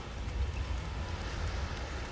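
A desert storm in the video game God of War Ragnarok sounds as a steady low rumble of wind-driven sand and hiss, continuous and fairly quiet with no voices.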